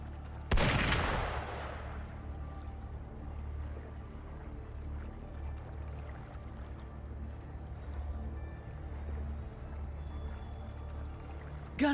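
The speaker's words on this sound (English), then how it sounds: "Gunfire! We've got intruders." One loud, booming gunshot in the video game Wuthering Waves rings out early and decays into a low rumbling ambience, followed by a long quiet stretch.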